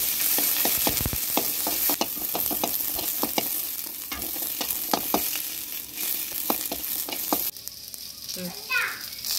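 Shallots, garlic and a small piece of tamarind frying in hot oil for ridge gourd chutney, giving a close, continuous sizzle broken by sharp ladle taps and stirring clicks. The sizzle changes near the end, with no talking.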